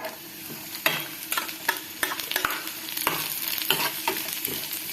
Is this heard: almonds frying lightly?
yes